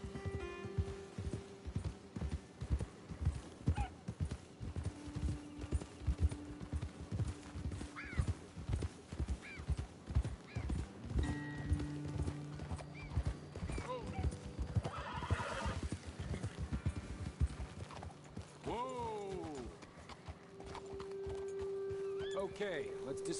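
Horses carry riders up a hillside trail, hooves clip-clopping in a steady close rhythm on hard ground, with occasional whinnies and neighs rising over the footfalls before the animals slow and stop.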